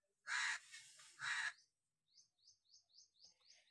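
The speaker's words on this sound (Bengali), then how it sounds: "ওটা কাকটা ডাকছে।" A crow gives two loud, harsh caws close by, followed by a quick run of faint, high chirps from smaller birds.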